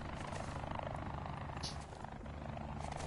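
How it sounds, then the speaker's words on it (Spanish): A helicopter flies overhead in a video game, its steady rotor drone filling the whole stretch alone, with no talk over it. "¡Ey, un helicóptero!"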